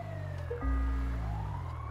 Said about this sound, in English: Oh no, it's the ambulance.